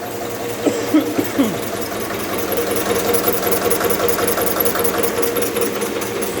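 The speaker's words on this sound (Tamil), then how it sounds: "ஸோ இப்போ இன்ஜின் பழைய ஸ்பீட் ரன் ஆக ஆரம்பிச்சிருச்சு." An IC engine runs steadily during a retardation test, with its speed climbing back up after the fuel supply is cut off, producing a loud, continuous mechanical knocking hum with a rapid regular pulse throughout.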